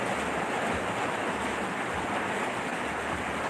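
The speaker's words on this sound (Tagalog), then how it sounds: "Lakas ng ulan." A steady, dense hiss of heavy rain pours continuously, loud and unbroken, with a low rumble underneath.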